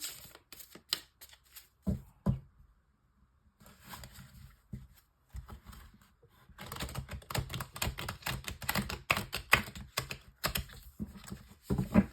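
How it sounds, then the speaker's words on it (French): Tarot cards shuffled for a January love reading using the Tarot de l'Illumination, a close, fairly quiet run of rapid riffling and flicking clicks in uneven bursts with brief pauses, busiest toward the end. "je prends le tarot de l'illumination pour le tirage sentimental de janvier"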